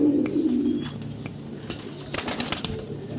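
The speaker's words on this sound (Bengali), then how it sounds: "রেন কবুতর দেখাচ্ছি ভাই" Fancy pigeons, including large yellow Wren pigeons, coo with a low rolling murmur near the start, followed by a burst of wing flapping and scattered rustling close by.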